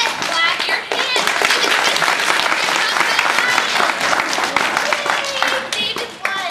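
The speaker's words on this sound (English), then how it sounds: "I said clap your hands." Audience at a stage drama bursts into loud, sustained clapping and applause that fills the room, with scattered children's voices and cheers mixed in.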